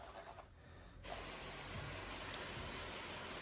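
A steady, close hiss of fine spray from a hose nozzle starts about a second in and continues evenly to the end, misting water onto soil.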